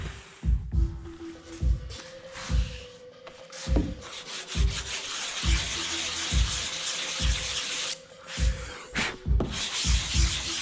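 Rhythmic scraping strokes of a sanding block rubbed by hand across a dried coating on a hard surface, repeated steadily with brief pauses between passes, close and fairly loud.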